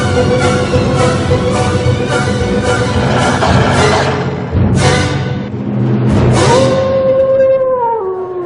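A wolf gives long, loud, wavering howls that rise and fall, repeated several times close by, ending on a sustained drawn-out note.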